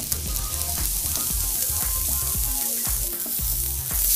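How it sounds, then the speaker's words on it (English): Mushrooms sautéing in oil in a deep skillet for a tofu noodle stir fry, a loud continuous sizzle and crackle with occasional spatula scrapes, close and alone. "And saute the mushrooms until they begin to brown"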